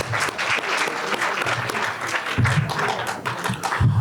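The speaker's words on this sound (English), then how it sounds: "Another round of applause for our teams." A quiz bowl audience gives a steady, dense round of applause, many hands clapping together in a sustained wash of sound with a few low thumps mixed in.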